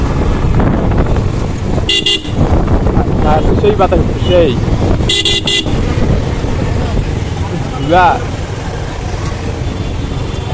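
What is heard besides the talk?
traffic jam with honking vehicles in Rangpur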